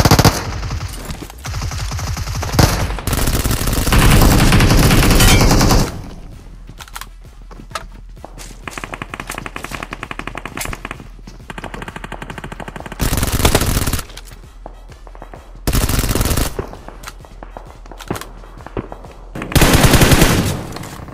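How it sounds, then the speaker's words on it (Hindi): Bursts of automatic gunfire in the mobile battle royale game BGMI, loud rattling volleys alternating with quieter stretches of footsteps and movement, repeating across the match. "इस आगे से कौन फायर कर रहे हैं भाई"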